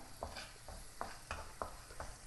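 A spoon stirs onions and carrots being roasted in a pan for a pickle, making soft repeated scraping strokes in a steady rhythm over a faint background sizzle.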